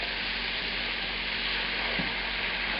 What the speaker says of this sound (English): And then add those mushrooms, the flat surface ones that were soaked in lemon juice